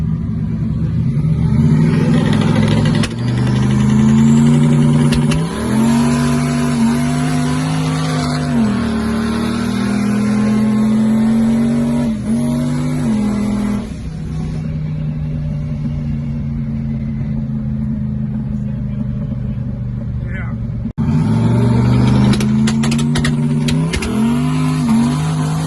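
A 2JZ-swapped Nissan S14 with a 4-inch exhaust revs hard in repeated bursts, its loud deep engine note rising and falling with brief lulls between pulls, heard close with no talking.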